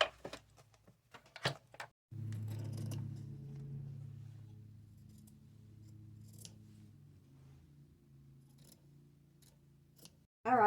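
Scissors cutting out thrifted lace for a jean jacket, with a few sharp snips at first and then a long steady slicing glide up close, ending with a brief knock.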